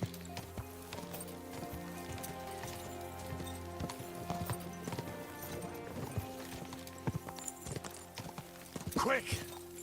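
Horse hooves pound rapidly in a galloping rhythm in the video game Kingdom Come: Deliverance 2, close and continuous, with a brief flurry of louder impacts near the end.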